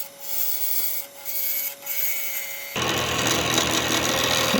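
A Carter and Son bowl gouge works a spinning blank on a wood lathe while making a French rolling pin with resin, first in intermittent bursts of hum, then a louder, continuous scraping cut.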